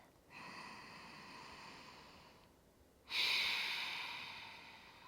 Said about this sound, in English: take 2 or 3 deep breaths here